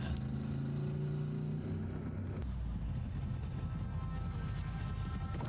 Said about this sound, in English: I love that you could hear the engine before it came around.